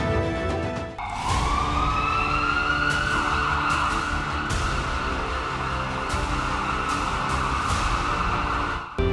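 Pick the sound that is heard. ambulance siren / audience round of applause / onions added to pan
ambulance siren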